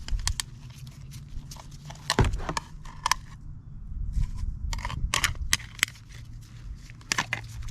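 Heavy-duty Wix spin-on transmission filter from a 1989 Chevy K1500 700R being cut open, a run of crunching, scraping metal cuts and sharp clicks in an irregular rhythm, close up and without talk.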